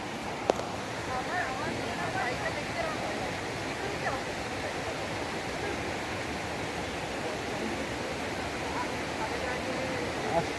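Krangsuri waterfall rushes in a steady, broad roar of falling water on a slippery, rain-soaked descent, with voices partly audible over the continuous noise.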